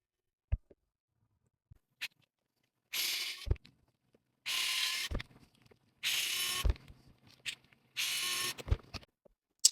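An INJORA mini cordless electric screwdriver backs out screws, heard as four close whirring bursts of about a second each, separated by clicks and handling taps in a quiet room.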